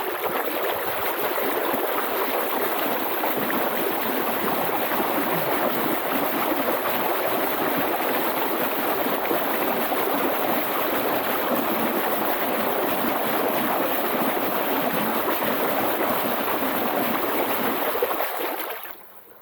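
Continuous rushing water and heavy splashing from an eFoil motor being thrust-tested, loud and close, holding steady for nearly twenty seconds before cutting off abruptly, with no voices.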